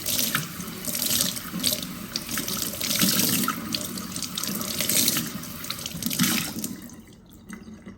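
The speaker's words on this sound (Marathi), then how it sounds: "हे आपण धुवून घेऊया" A copper or brass plate washed under a running kitchen tap, a loud steady splashing gush of water with shifting spatter as the plate moves, easing to quieter drips near the end, with no talking.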